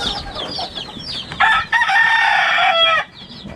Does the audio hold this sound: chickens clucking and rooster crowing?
yes